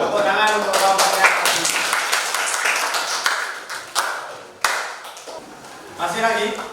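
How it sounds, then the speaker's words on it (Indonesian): Classroom students clap for a presenting group, a brisk burst of uneven hand claps that thins out, with a few louder isolated claps and some talk mixed in. "Tepuk tangan untuk kelompoknya."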